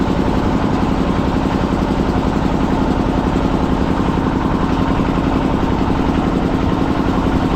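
A boat's engine drones in a steady, loud, close rumble while cruising a river beside the Sundarbans tiger forest, constant throughout with no talk.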